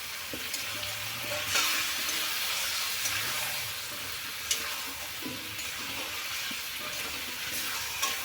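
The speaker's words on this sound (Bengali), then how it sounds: "এবারে আমি ফুলকপি ভাজা করব" Cauliflower frying in a pan, a steady close sizzling hiss with occasional soft stirring clicks and small pops throughout, no voices.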